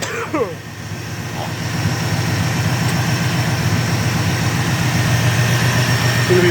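A modified car engine idling steadily while warming up, a deep, even low-pitched rumble held close and loud, with a brief spoken voice and a whistling whine near the start.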